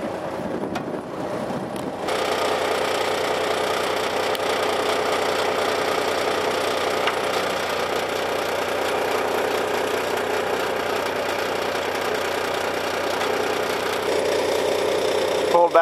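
A loud, steady mechanical engine drone with rhythmic knocking from a Hammerhead 8-inch Impactor pipe bursting rig runs continuously, starting abruptly after a quieter moment.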